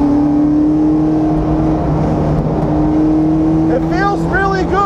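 A championship-winning 2002 Mustang Cobra Grand Am race car drones steadily at speed on a track, its engine note loud and continuous with a brief rising pitch sweep near the end.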